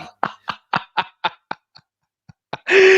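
A rapid string of short, choppy coughs in a fit, trailing off, then one last cough before a loud abrupt noise cuts in.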